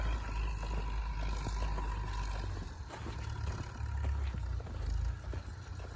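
A Massey Ferguson 285S tractor idles nearby in a sunflower field, giving a steady low diesel rumble and throb with faint mechanical rattle, constant and unbroken.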